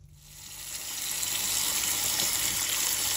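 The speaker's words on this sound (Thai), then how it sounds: "นี่ก็สิเปิดน้ำ" Water runs from a tap while pine mushrooms are rinsed, a steady close hiss that swells over the first second and then holds loud and even, with no voices.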